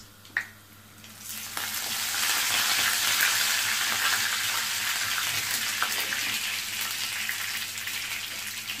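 Curry leaves and onions frying in oil for wheat rava upma, a steady close sizzle that starts after a soft clatter and continues loudly and evenly throughout.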